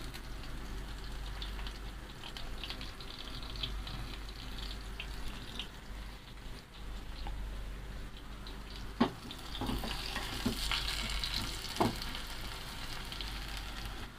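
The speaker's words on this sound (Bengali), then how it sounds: "আমাদের পেঁয়াজটা লাল বর্ণ ধারণ করেছে, ভাজা হয়ে গেছে।" Chopped onions frying in oil for Chittagong-style kala bhuna beef, a steady low sizzle running throughout with a few sharper clinks partway through, and no voices.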